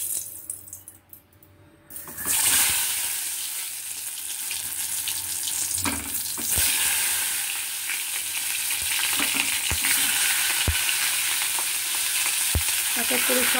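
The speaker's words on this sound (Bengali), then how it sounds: "পটলগুলো ঠিক এইভাবে লাল লাল করে ভেজে তুলে নিতে হবে" Pieces of pointed gourd, rubbed with salt and turmeric, fry in oil over low heat. After a quiet start, a loud, steady sizzle takes over, with occasional sharp clicks from stirring.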